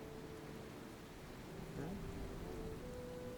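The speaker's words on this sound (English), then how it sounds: "it's raining now" Rain falls as a steady, faint, broadband patter that hisses evenly with no break. A low hum sits underneath it.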